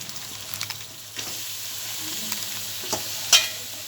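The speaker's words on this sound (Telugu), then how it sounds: "తర్వాతనైతే మనం కట్ చేసుకున్న చికెన్ అయితే మొత్తం వేసేసుకోవాలి." Cut chicken frying in a pan with turmeric, a continuous crackling sizzle with a few sharp stirring clinks and scrapes, one louder clatter near the end, close by and without talk.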